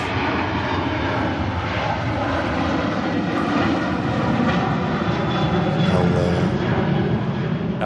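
A Ryanair airliner departs Manchester Airport for Porto, its jet engines producing a loud, steady, broadband roar that swells slightly and holds throughout, with no voices.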